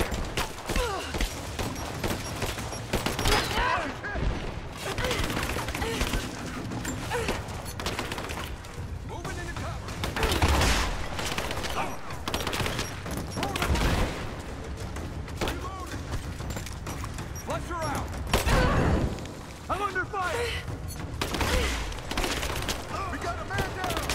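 Gunfire bursts and booms from a battle in the video game Rise of the Tomb Raider, dense and continuous over music and effects, with repeated loud shots and voices shouting throughout.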